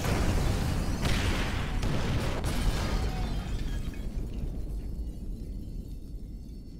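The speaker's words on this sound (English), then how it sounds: "Detonate the incendiaries, Frank." A loud, rumbling fiery blast from incendiaries detonated in GTA 5 during a fire-department heist: a sharp burst with crackling debris, then a long roar that slowly fades into a lingering low rumble.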